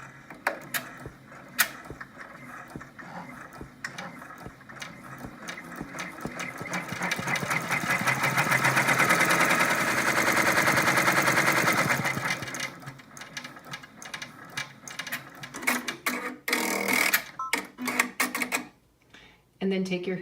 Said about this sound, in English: With your hoop back on the machine, stitch out step 7, which will stitch the outline for the vinyl placement for her hair.